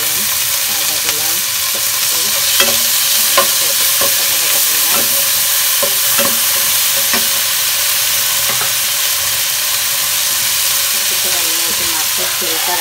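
Onion with ginger, garlic, coriander, cumin and spices fries in a pan under a constant loud sizzle and hiss, with a spoon scraping and stirring at irregular intervals, close up.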